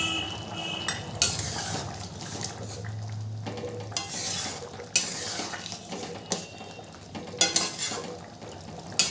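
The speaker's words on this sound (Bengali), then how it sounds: "ভালো করে নেড়ে নেব।" Chana masala with kasuri methi and garam masala is stirred in a pan, with scraping spoon strokes and metal clatters over a low sizzle, close and steady.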